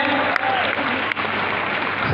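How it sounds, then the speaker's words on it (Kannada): Loud, dense applause from an audience at a school golden jubilee event, a continuous close roar of clapping hands with no breaks. "ಸೂಪರ್ ಬರ್ರಿ ಜೋರಾದ ಚಪ್ಪಾಳೆ"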